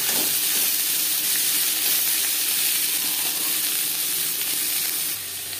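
Large-cut onions fry in hot oil in a wok, giving a steady, dense sizzle and hiss that holds evenly throughout and drops slightly near the end.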